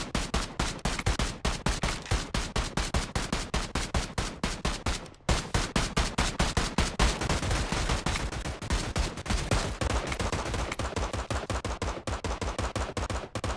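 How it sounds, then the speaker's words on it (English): Rapid automatic gunfire in a role-play video game, bursts of dense, loud shots rattling almost continuously with a brief pause midway, close and alone. "somebody shooting"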